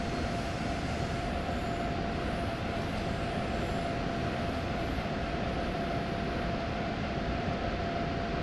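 A regional express train passes an ICE high-speed train in Train Sim World 4, heard as a steady, loud, continuous rumble with a faint tonal whine that holds throughout, with no talking.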